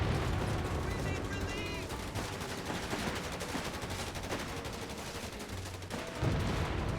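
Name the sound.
tank 76mm gun firing in Company of Heroes 3 video game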